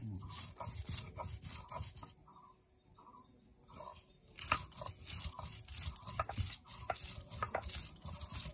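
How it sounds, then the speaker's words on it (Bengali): Ginger, garlic, onion and chilli being ground on a stone shil-nora, a close scraping, crunching rhythm of repeated strokes with a brief quieter pause partway through. "আমার মা শিলনোড়াতে বাটছে"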